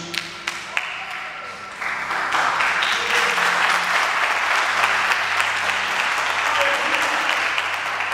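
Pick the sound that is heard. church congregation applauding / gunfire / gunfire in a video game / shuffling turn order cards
church congregation applauding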